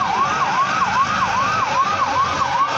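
A fire brigade fire engine's siren at a Republic Day parade on a police ground, loud and close with a steady wailing rise-and-fall pattern repeating throughout, no talking.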